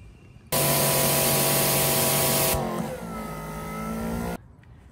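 A Greenworks 3000 PSI electric pressure washer fitted with a degree tip sprays in one loud, continuous hissing blast lasting about four seconds, the pitch shifting partway through before the spray cuts off abruptly.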